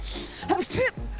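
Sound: sneeze

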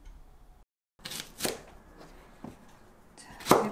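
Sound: chopping green onion (daepa) with a knife

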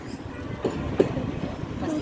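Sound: children's railway train passing

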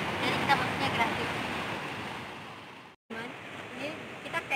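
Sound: waves and wind at a beach in Lampung

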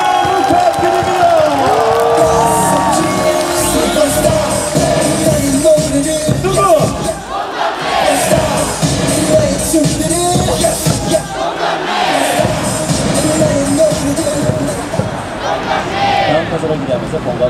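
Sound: baseball stadium crowd applauding and cheering

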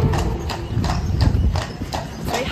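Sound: horse pulling a carriage, hooves clip-clopping

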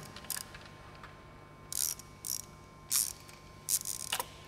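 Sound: tightening bolts on an Edelbrock supercharger bracket

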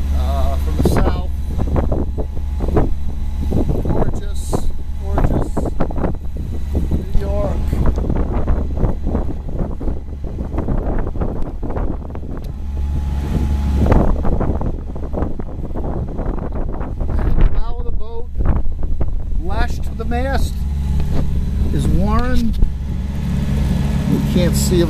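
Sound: wind blowing across New York harbor on a boat

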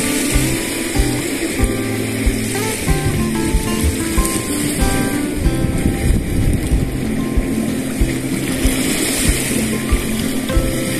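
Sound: ocean waves crashing at the beach

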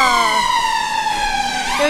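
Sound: ambulance siren passing on a London street

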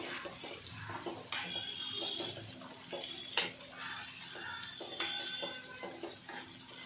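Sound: stirring a steamed chili dish in a pan

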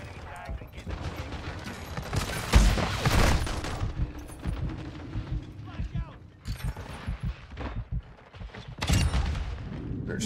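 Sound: gunfire from a video game, Call of Duty-style shooter

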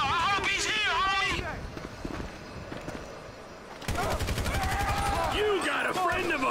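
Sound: sniper fire in GTA 5 video game

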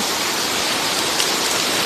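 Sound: rain falling

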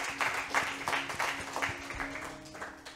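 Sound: congregation clapping hands

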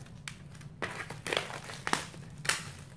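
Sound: crinkling plastic film being removed from a cheap picture frame

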